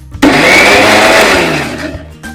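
A kitchen blender grinds spinach and boiled peas into a paste for hara bhara kebab: one loud, close whirring burst of about two seconds that winds down toward the end.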